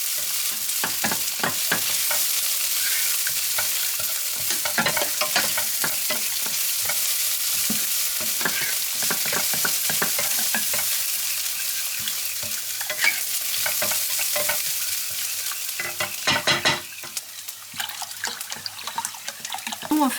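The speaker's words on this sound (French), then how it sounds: "on n'oublie pas les oignons, sinon ils vont devenir carbonisés" Onions frying and being stirred in a pan while lasagne is being made: a steady close sizzle throughout, with frequent scraping and clattering strokes from the stirring and a brief burst of water near the end.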